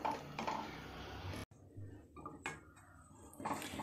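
A spoon clinks and scrapes against a pan on the stove while a crumbly, podimas-style dish with ground leaves is stirred. The sounds are quiet and close, broken by a sudden cut partway through.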